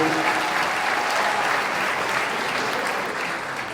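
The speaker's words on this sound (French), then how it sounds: "vous avez raison d'applaudir" Sustained audience applause at a political event in Tunisia, a dense, even wash of clapping that holds steady throughout and fades slightly at the end, with no clear voices over it.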